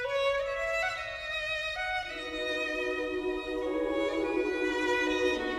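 Orchestral film score piece from the How to Train Your Dragon soundtrack, with sustained strings and melodic lines swelling steadily at full, even volume throughout, no voices.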